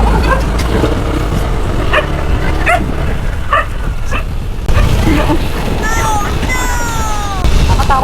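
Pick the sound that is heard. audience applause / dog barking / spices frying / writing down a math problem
dog barking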